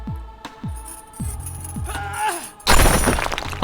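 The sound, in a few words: chain being broken in a video game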